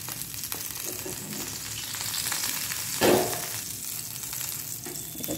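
Vegetables fry in hot oil in a kadai that earlier fried pointed gourd and brinjal, giving a steady close sizzle with a louder burst of crackling partway through; no one speaks.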